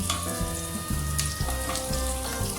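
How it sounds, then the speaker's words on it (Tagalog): Vegetables sauté in a pan with a constant close sizzle as carrots are dropped in, while stirring strokes thump and scrape at an irregular rhythm and no one talks. "Habang ginigisa nyo, inuhulog nyo na rin yung carrots."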